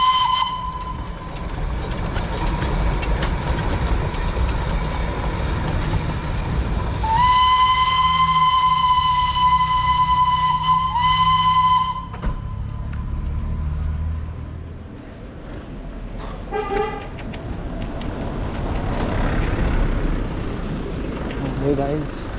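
The Darjeeling toy train's steam locomotive hisses and chuffs steadily, then sounds a loud, sustained steam whistle for about five seconds before the hissing carries on alone.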